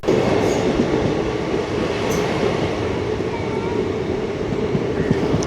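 An Intercity Express passenger train runs between Angadippuram and Ernakulam in Kerala, heard from on board as a loud, continuous rumble with rhythmic wheel clatter over the rails throughout.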